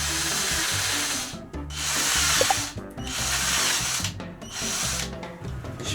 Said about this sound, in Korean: 이럴 때는 이런 스텝 드릴로